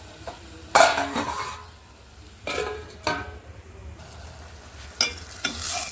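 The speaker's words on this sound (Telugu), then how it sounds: "దీన్ని మూత పెట్టేసి మగ్గనిద్దామండి." A tamarind-leaf curry in a pot gets stirred and has its lid set on, giving bursts of metallic scraping and clanks spaced across the clip over a soft background sizzle, with no voices.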